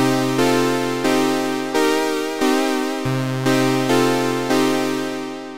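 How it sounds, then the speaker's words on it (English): Softube Model 84 emulation of a Roland Juno-106 synth with chorus switched off, playing a sequence of sustained, thick chords that change roughly every half to one second, each fading slightly, with no other sounds. "Without any chorus, you get a sound like this."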